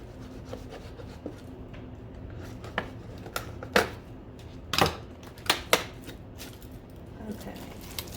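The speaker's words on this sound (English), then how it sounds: "Scissors." Scissors snipping washi tape at a desk while planning, a few scattered close crisp cuts and rustles over faint room noise.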